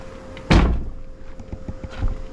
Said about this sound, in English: single door closing down